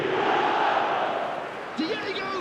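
Stadium crowd noise from an eFootball match, a broad steady roar of many voices under the game, fading slightly toward the end, with a brief whistle-like rising tone near the close.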